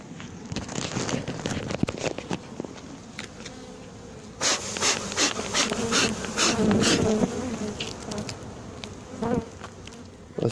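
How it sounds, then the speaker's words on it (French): Dense buzzing of many honey bees swarming close by on a tree trunk, steady and loud, with sharp crackly bursts and brief rises in intensity partway through. "Il y a des abeilles sur le tronc."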